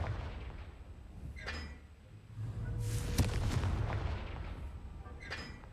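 Confringo blasting spell in Hogwarts Legacy, a sharp explosive crack with a booming low thud in the middle, framed by a few fainter impacts before and after.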